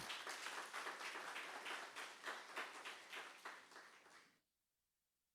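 A church congregation at a Sunday morning seminar service breaks into lively clapping that rises in rhythmic bursts, then fades and stops abruptly into near silence.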